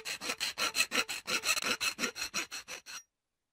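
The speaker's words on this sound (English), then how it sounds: "File." Metal file rasping back and forth on a workpiece in a children's tool-learning game, about fifteen quick, even scraping strokes close up, then abrupt silence.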